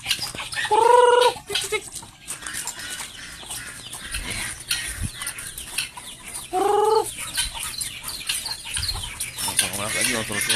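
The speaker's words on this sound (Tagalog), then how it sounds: "Manok." Chickens cluck in a farmyard, with two loud close bursts of clucking about six seconds apart over a faint, busy background that includes other bird sounds and some voices.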